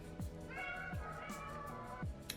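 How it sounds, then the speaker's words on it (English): Several cats meow repeatedly just outside a closed office door, a string of drawn-out cries at moderate distance, fairly faint, with no talking. "My cats are standing outside my office right now meowing because they want to be let in so bad"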